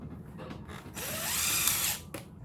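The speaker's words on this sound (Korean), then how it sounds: "이 부분에다 피스를 이런 식으로 피스를 박으면 됩니다." Power drill driving screws into the leg of a wall-mounted air conditioner one-way wind deflector: a short burst of whirring motor with a rising pitch, near and fairly loud, alone with no talk.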